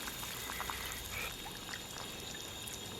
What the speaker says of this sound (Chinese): 咱们给里边淋点水淀粉